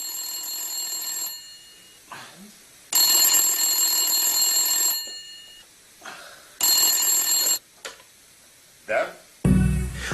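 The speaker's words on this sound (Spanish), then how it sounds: "A las 4:30 de la madrugada de aquel 26 de abril, suena el teléfono" An old telephone rings in an apartment at night, its bell sounding in three loud bursts separated by quiet gaps, with a few faint voice fragments between the rings.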